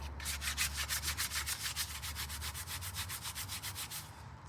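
Old chrome car rims being scrubbed clean of caked grease and grime, a steady rhythmic back-and-forth rubbing of roughly four strokes per second, close and fairly loud, with no talking.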